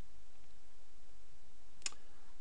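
A single sharp computer mouse click, clicking Save in a website theme editor, lands alone against a quiet room hiss.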